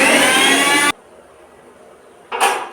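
A mixer whirs loudly while blending a lemon rice mixture, running in a short burst that cuts off sharply, followed by near silence and then a second brief pulse.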